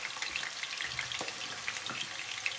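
Steady crackling sizzle of potatoes frying in hot oil, with soft pops scattered throughout and no voices.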